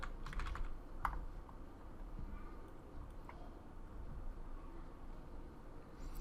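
A computer keyboard is used to type a search into a music streaming website: a quick cluster of soft key clicks, then a few sparse taps, all quiet over a steady background hiss.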